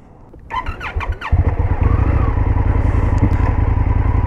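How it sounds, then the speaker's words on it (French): An Indian FTR 1200 R Carbon motorcycle from 2021 pulls away. A few sharp mechanical clicks come first, then the exhaust note rises into a loud, close, steady throbbing rumble as the bike rides off. "que tu aies le bruit du pot"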